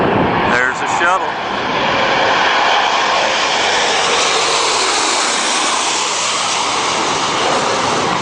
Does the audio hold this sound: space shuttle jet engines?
yes